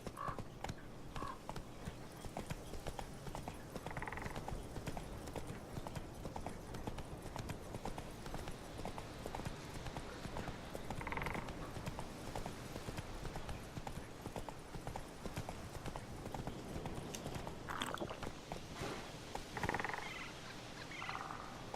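In the Witcher 3 game, a horse's hooves clip-clop in a quiet, steady rhythm for the whole stretch, with a few soft voice sounds faint in the background.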